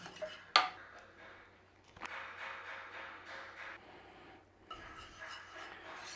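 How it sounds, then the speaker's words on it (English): Spoon stirring grated cheese into a thick Welsh rarebit paste in a bowl, with a sharp clink at the start, a knock midway, then steady soft scraping and rubbing strokes, close and fairly quiet. "Just stir that through in there."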